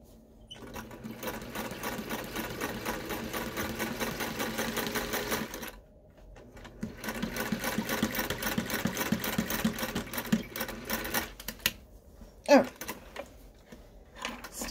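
A sewing machine stay stitches pieces of a poet shirt sewn from a bedsheet, running in steady bursts of rapid, even whirring with a pause near the middle, and then stops and starts near the end.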